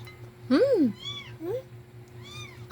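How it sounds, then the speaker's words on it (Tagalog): A kitten meows three times, close by: a loud first cry, a short second one and a longer third, over a low steady hum. "There's a kitten down there. Meow."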